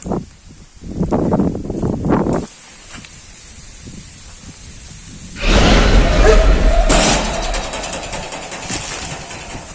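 A door swings open in the wind during a village ghost comedy skit. Voices talk first, then a loud broadband rush and creak lasts a few seconds before fading into softer noise.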